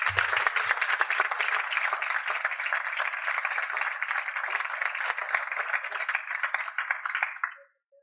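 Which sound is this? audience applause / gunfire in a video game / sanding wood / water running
audience applause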